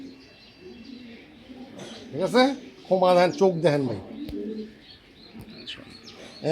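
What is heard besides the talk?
racer pigeon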